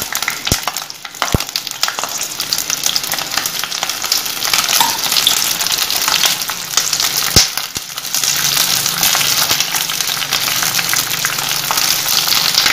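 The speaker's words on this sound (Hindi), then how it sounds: "सबसे पहले हम प्याज इतना फ्राई करके निकालेंगे। बहुत ही हल्का सा हमें फ्राई करना है।" Onions fry lightly in hot oil, giving a loud, continuous crackling hiss with a couple of brief sharp ticks near the start.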